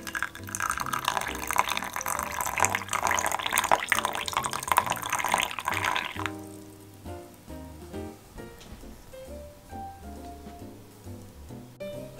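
Hot water pours steadily onto homemade persimmon-yuzu preserve, a continuous close splashing fill for about six seconds that then gives way to quieter drips and soft music.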